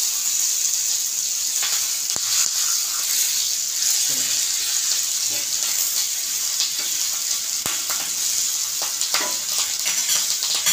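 Stuffed chillies fry in a pan with a continuous crackling sizzle, broken by occasional sharp clicks and scrapes of stirring, close and fairly loud throughout.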